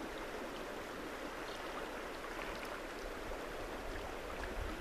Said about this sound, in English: you just filled with the quiet brought to you by the sound of the river